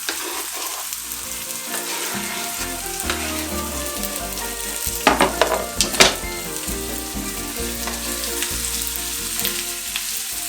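Peppers and onions frying in a pan for Turkish menemen, a continuous loud sizzle with occasional scraping stir sounds and brief crackling bursts near the middle.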